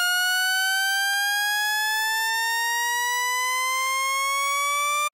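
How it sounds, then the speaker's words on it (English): A synthesizer saw-wave Shepard tone riser plays a bright, buzzy stack of harmonics that glides steadily upward, loud and continuous, with faint periodic ticks and a sudden cutoff at the end. "I'm gonna turn the tone up so it's on a saw wave."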